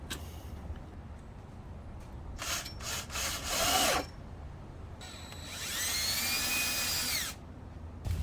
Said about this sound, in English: Go ahead and drill 2 holes in that